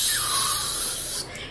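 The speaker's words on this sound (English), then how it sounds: "If it's a spray, please spray." A deodorant aerosol can sprays in one loud, close, continuous hiss lasting just over a second before it cuts off abruptly.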